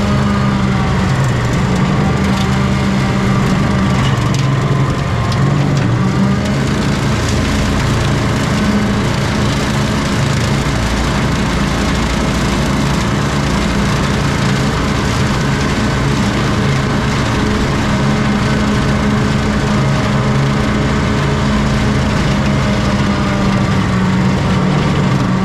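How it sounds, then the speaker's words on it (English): A Kubota 3901 small-frame 39 horsepower four-wheel-drive tractor runs steadily at close range on a hot day, a loud, even engine drone with a low rumble and no pauses or speech. "Now, a little bit about my wife's tractor here. It's a Kubota 3901."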